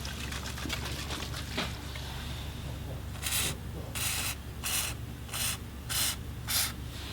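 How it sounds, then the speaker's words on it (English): Short hissing bursts of lubricant spray on a Honda CBR 250R motorcycle chain, about six evenly spaced blasts repeating roughly every half second, close and fairly loud after a stretch of softer rubbing. "I sprayed one joint at a time instead to make sure the entire chain was covered."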